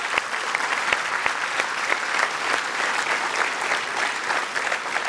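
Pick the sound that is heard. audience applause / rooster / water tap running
audience applause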